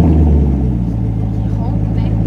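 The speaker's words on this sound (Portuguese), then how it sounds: "vou ligar o carro pra você ouvir o barulho dele" A car engine runs after starting, a loud close low rumble with a steady throb, while voices talk over it.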